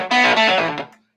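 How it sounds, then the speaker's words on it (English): An electric guitar played fast with a distorted, effects-heavy tone, a loud dense burst of overdriven notes lasting about a second before ringing out and cutting to silence. "That sounds almost like distortion, but it's probably through the mic."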